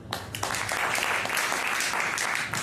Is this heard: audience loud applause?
yes